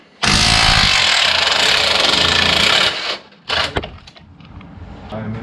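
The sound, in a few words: power tool removing bolts from Maverick X3 A-arm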